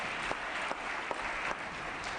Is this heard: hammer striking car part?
no